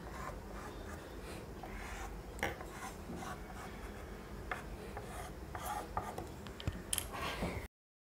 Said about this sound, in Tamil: பாருங்கள் இந்த மாதிரி வந்து நம்ம கட் பண்ணி எடுத்துக்கிட்டோம்